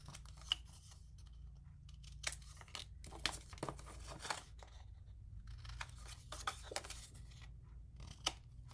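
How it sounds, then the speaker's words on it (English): Scissors trim paper strips for a handmade 6 x 8 mini album, giving a run of quiet, irregular snips and crisp rustles close by, with no talking. "So I am going to trim these off."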